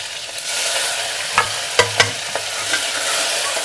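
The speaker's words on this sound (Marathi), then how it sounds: "वरणला आता पटकन फोडणी देऊन देते, कारण तेल खूप तापून गेलेलं आहे।" Hot oil hisses loudly as a tempering for dal is poured into very hot oil, a steady sizzle broken by a few sharp crackles and pops.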